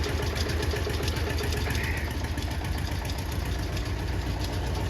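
A tractor engine idles nearby with a constant low rumble and rhythmic chug, running continuously without pause.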